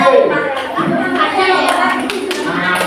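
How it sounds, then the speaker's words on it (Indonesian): A group in a classroom claps for another group of students, brisk clapping close by mixed with children's voices and chatter throughout. "tepuk tangan buat kelompok B"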